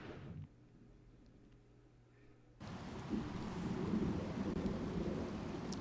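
Thunderstorm in the video game Caravan Sandwitch: after a quiet stretch, a loud wash of heavy rain and rumbling thunder swells in and keeps building to the end, with no voices.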